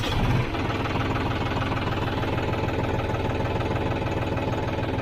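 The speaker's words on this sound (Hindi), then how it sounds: "ट्रैक्टर के आरपीएम में इसके दिखा देता हूँ एक बार आपको कितने आरपीएम पे ट्रैक्टर है ये अभी" John Deere tractor diesel engine at idle, a steady loud chugging hum with a regular knocking rhythm, close by and alone after a brief louder rev at the start.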